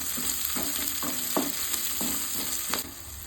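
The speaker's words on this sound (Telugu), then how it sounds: "2 పచ్చిమిర్చి, కట్ చేసిన కరివేపాకు, 1 ఉల్లిగడ్డ లైట్గా ఫ్రై చేసుకోవాలి." Onion, green chillies and chopped curry leaves fry lightly in two spoons of oil in a pan, giving a close, steady sizzle broken by about half a dozen spatula scrapes at an uneven rhythm.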